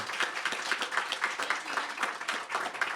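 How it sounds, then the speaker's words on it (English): A seated audience at an art-and-sport panel event claps to send off a departing panelist, a brisk round of clearly separate handclaps at moderate volume that carries on steadily without a spoken voice. "So clap it up for her."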